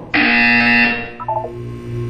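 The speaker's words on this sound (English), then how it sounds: "When you hear the buzzer, look down at the floor." A single loud electronic buzzer tone sounds in the video game Portal 2, a harsh sustained beep lasting under a second that fades into a softer tonal trail with faint background hum.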